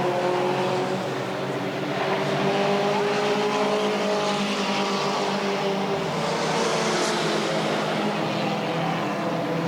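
Race cars roaring down the back straightaway of Redwood Acres Raceway during a 1989 oval race, a loud, continuous engine drone with shifting pitch as the pack passes, rising and falling, no voices.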